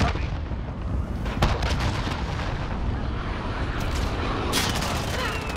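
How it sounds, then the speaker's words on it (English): Cruise missile strike in the video game Call of Duty Modern Warfare: heavy, rumbling explosions and crackling blasts roll on continuously and loudly, with a sharper crack partway through and another surge near the end. "Enemy cruise missile incoming."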